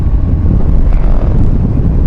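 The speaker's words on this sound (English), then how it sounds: "It's a very windy day today." Steady, loud low rumble of strong wind buffeting the microphone, continuous throughout with no pauses or voices.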